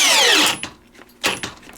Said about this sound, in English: I'm going to start by putting the drill in high range